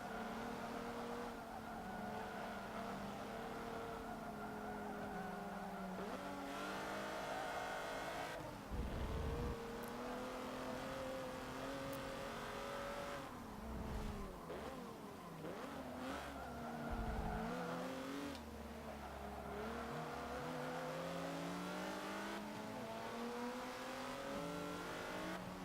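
Race cars in Forza Motorsport 7 roaring around a track past a Maserati, with engines revving up and down through gear changes, tires squealing and cars whooshing by, loud and continuous with no talk.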